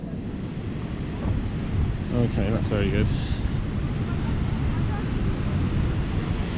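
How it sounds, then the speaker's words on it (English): Dettifoss waterfall in Iceland roars as a broad, continuous rushing wash mixed with wind buffeting the microphone, while a person speaks briefly over it. "welcome to the most powerful waterfalls in Europe"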